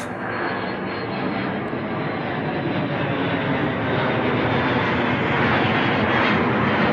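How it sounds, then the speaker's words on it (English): A jet aircraft passes overhead above a spring garden, a steady broad roar that slowly swells louder across several seconds, distant yet filling the background with no talk over it. "Along with a jet going over."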